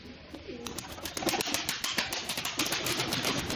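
Pigeons in a coop, including an agitated female with a week-old squab, give soft cooing calls amid scattered wing flaps and scuffling, close and moderately loud, with no talk.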